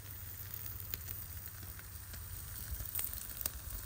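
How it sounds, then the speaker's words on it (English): Meat sizzles steadily in a pan over a campfire in the woods, a continuous low crackle and hiss with occasional sharper pops, close and moderately loud with no talking. "looking good, sizzling away."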